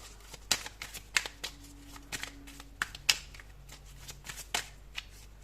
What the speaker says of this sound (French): on va prendre 3 cartes avec le tarot